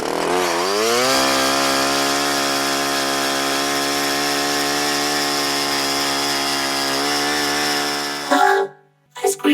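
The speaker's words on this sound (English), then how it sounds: "And what's this chainsaw doing here?" A cartoon chainsaw sound effect runs loud and steady for about eight seconds, its motor pitch rising at the start, then cutting off abruptly into a few short scuffling noises.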